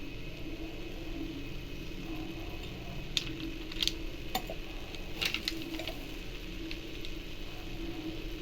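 Sweet potato adai batter fries on a hot dosa griddle over a low flame, with a steady, moderate sizzle of oil and a few sharp crackles and taps partway through. No one speaks.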